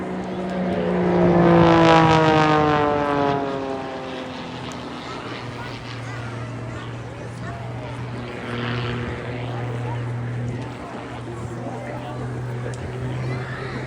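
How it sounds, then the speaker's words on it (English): Aerobatic display aircraft tumbling through a series of dynamic manoeuvres at a seaside regatta air show, its engine tone rising and sweeping loudly at first, then settling into a steadier drone beneath an ongoing voice. "effortlessly just letting the aircraft tumble through the sky, holding it all under control, continuing a whole series of dynamic maneuvers"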